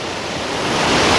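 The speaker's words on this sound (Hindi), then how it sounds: "और रोड से इसका पानी नीचे गिरता हुआ और भी प्यारा लग रहा है" Mountain stream water in Uttarakhand spilling down from a road, a loud, dense, continuous rushing roar that swells slightly, close to the microphone with no voices.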